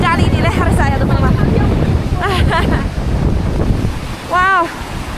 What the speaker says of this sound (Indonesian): anginnya kencang banget di sini di atas jembatannya